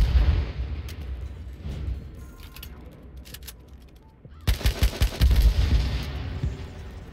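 Shots fired at exploding barrels in H1Z1 ring out in scattered bursts, then a loud cluster of booming blasts and rapid gunfire erupts near the end, close and forceful.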